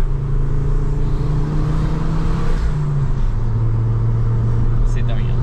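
A Ford Focus RS drives and accelerates on an open road, its engine droning steadily loud and close with a sustained low tone that shifts in pitch, heard from inside the car.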